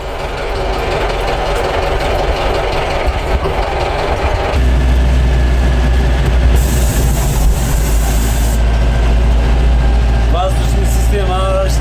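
A Farmlead 504 tractor engine runs steadily throughout a test drive, a loud continuous low rumble that deepens and strengthens midway, with a high hiss and some brief squeaks near the end.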